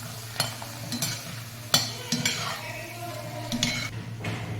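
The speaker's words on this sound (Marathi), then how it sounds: "आता हे बटाट्याचे पापड आपण तळून घ्यायचे" Potato papad frying in hot oil, with a soft sizzle beneath sharp clinks and scrapes of a metal utensil stirring in the pan, sporadic taps punctuating the bubbling.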